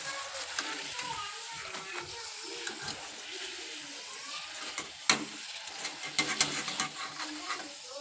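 Potato chips frying in hot oil give a continuous, fairly quiet bubbling sizzle, with occasional scrapes and a few louder stirring clatters toward the end.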